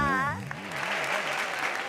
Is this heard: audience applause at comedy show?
yes